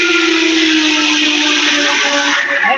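A kitchen blender purees pumpkin soup with a loud, steady whirring drone that holds nearly constant throughout, its pitch shifting slightly near the end as the thick mixture churns. No talking is heard over it.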